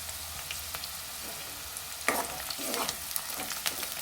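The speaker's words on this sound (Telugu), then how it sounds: "బిర్యానీ ఆకు ఆయిల్లోనే కొంచెం మగ్గాలి" A bay leaf fries in hot oil for chicken curry, a soft steady sizzle close by with a stirring scrape and a louder burst of crackling midway.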